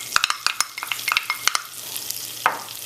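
Diced celery and scallion frying in melted fat for a Caribbean coconut shrimp bisque, a soft sizzle under sharp clicks of a utensil stirring against the pan, close and unvoiced.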